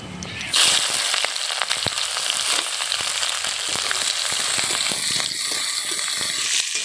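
Onion sizzling in hot oil on top of a tempering of bay leaf and cumin, a steady close, loud frying hiss with a sharp burst as it hits the pan and scattered crackles and pops throughout.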